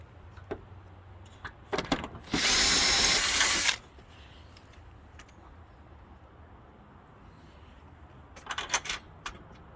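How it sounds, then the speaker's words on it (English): A single loud burst of a power drill running for about a second and a half during fence gate installation, framed by clicks and clinks of handling tools. "I'll just drill the other one"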